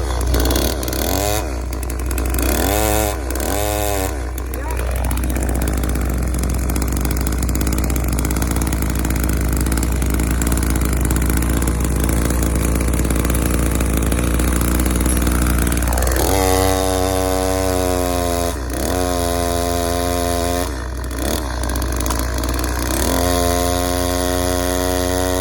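A chainsaw runs loud and close after its chain has been put back on, the two-stroke engine idling and then revving up and down in repeated surges over about twenty-five seconds, with no talk over it.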